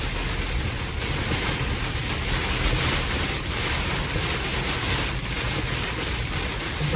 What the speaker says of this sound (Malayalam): തകർപ്പൻ മഴയെന്ന് പറഞ്ഞാൽ ഒരു രക്ഷയില്ലാത്ത മഴയാണ്.